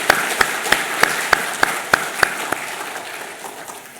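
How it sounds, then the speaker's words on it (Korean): A church congregation at a Sunday service applauds together, steady sharp claps in an even rhythm that fill the room, loud and close at first and then fading away. "큰 박수로 환영하겠습니다."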